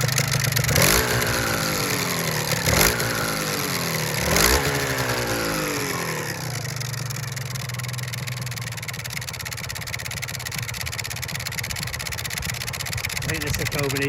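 A Suzuki RGV250M two-stroke motorcycle engine runs on choke, revving in a few rising bursts early on before settling into a steady, loud, buzzing idle close by.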